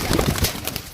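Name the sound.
pigeons of rare breed cooing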